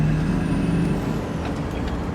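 A heavy truck on an outback road braking hard to a dead stop for cattle, with a loud steady rumble and hissing air brakes close by and no voices.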